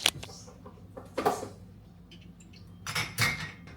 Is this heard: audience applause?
no